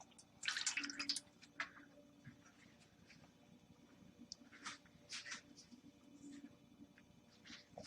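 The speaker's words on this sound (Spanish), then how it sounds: "lo que hago es que esta parte la lleno de agua" Water runs into a steamer pot in a kitchen, faint and close, with splashy bursts at the start and intermittent pouring and dripping sounds after.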